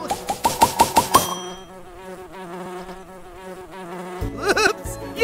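Cartoon bees buzzing in flight: a steady insect drone runs through, opening with a quick series of bright rhythmic tones, then a lower sustained hum, with louder busy buzzing returning near the end, all without speech.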